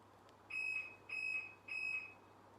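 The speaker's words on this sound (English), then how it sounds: "when I press the lock button, like the alarm goes on" Car alarm on a Ford Cosworth project car sounding as the lock button is pressed: three evenly spaced electronic beeps, each about a third of a second, clear over a quiet low hum.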